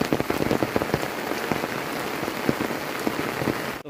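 Steady, heavy monsoon-style downpour pattering on surfaces outdoors around a house, water running along the lanes; a dense continuous hiss with sharp drop impacts throughout, loud and close, with no voices.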